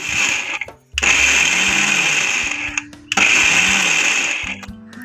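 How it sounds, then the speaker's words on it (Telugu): Mixer grinder whirring loudly as it grinds small pieces of fresh coconut, running in two long bursts with a brief pause between them and a short start at the end. "వీటిని అయితే మిక్సీకి వేస్తున్నాను"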